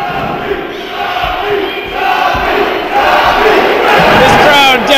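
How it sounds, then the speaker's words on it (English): A wrestling crowd at a live event chants loudly and rhythmically, the massed voices building and growing louder toward the end. "This crowd, deafening chants of zombie."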